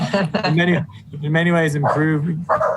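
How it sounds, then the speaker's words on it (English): A pet dog barks in sharp bursts under a voice as he speaks during a remote city government committee meeting, the barking mixed closely with his speech. "sorry for my dog"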